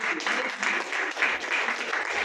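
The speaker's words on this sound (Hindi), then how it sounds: "परमेश्वर को ताली बजाकर धन्यवाद" A church congregation applauds together during a Hindi sermon, a steady wash of hand clapping that holds at an even level from start to finish with a faint voice underneath.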